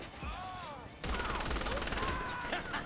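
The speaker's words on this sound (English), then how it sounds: "Shoot him out the building." Rapid gunfire erupts against enemies in Saints Row: The Third, a dense continuous burst of shots that starts abruptly partway through and follows a stretch of voices.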